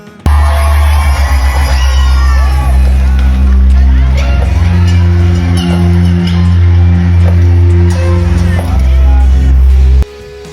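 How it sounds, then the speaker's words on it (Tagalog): A studio audience on the Eat Bulaga stage shouts, whoops and cheers loudly as dancer Atasha Muhlack walks out with her backup dancers, a dense, continuous roar over pulsing music that cuts off abruptly near the end. "Sigawan ang mga audience nang lumabas padahan-dahan si Atasha sa stage kasama ang kanyang mga backup dancers."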